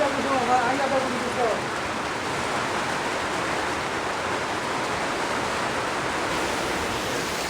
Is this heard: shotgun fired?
no